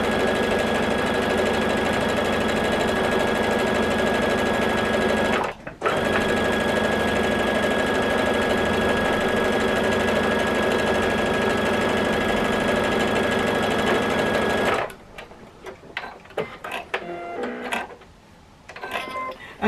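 Sewing machine stitching a jelly roll quilt block runs in a loud, even whir, stopping briefly near the start, then halting about three quarters through, followed by quieter handling noises.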